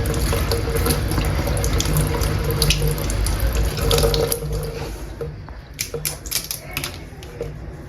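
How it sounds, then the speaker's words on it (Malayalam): Crab being washed clean under a running kitchen tap, a steady close gush of water splashing into a sink, easing off near the end into scattered drips and handling clatter, with a voice faintly underneath. "എന്നിട്ട് പിന്നെ ഒന്നും കൂടി നല്ലപോലെ കഴുകിയെടുക്കുക."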